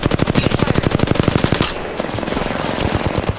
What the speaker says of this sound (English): Oh no! I'm taking shots.